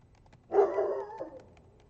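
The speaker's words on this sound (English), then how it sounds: "The dog is still barking." A seven-month-old dog barks indoors, one loud bark-like burst followed by a softer trailing yelp, then quiet.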